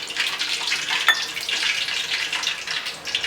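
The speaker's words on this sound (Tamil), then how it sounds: "இப்போ தண்ணி ஊற்றிக்கலாம்." Water poured into a bowl of cornflour batter with salt for crispy potato balls, a steady close splashing hiss that runs without pause for about three seconds, with no talk.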